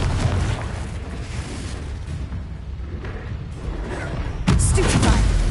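A Confringo fire spell in Hogwarts Legacy bursts with a loud, rumbling explosion over a dense bed of battle noise, with a sharper blast near the end.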